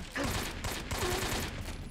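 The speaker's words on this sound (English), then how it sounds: "I'm not really firing like crazy because I'm not on burst fire." Single-shot gunfire from a weapon in Metal Gear Solid 3, a steady run of shots packed close together over a dense, loud game soundscape, with a faint voice underneath.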